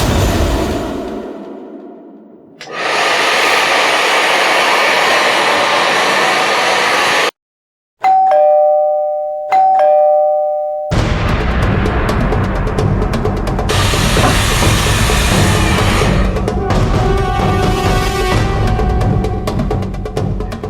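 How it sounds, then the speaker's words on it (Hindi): A doorbell rings twice in two short tonal bursts, sounding over the steady roar of an air conditioner and a hair dryer, with harsh broadband blowing noise running before and after the chime. "एसी और हेयर ड्रायर की आवाज के ऊपर भी बेल की आवाज साफ सुनाई दे रही है।"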